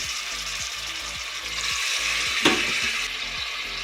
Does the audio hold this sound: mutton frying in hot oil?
yes